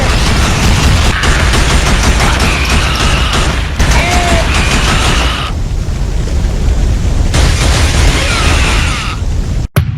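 Futuristic weapon fire and explosions from a PlayStation 2 game, a dense continuous barrage of blasts and bursts that stays loud for most of the stretch, with a brief quieter dip in the middle.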